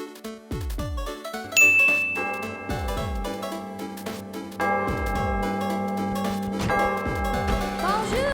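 Clock chimes ringing in Disney's Beauty and the Beast, a series of bright bell strikes with long ringing decay, repeating over orchestral music and growing denser toward the end.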